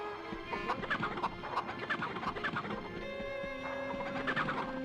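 Chickens cluck in a steady stream of short, repeated calls in the video game MediEvil, heard over game background music with no talk.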